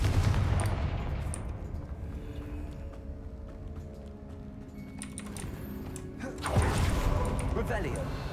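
Spell blasts from the Confringo fire spell in Hogwarts Legacy, a series of sharp popping bursts with a heavier explosive surge near the end, crackling over a steady game backdrop.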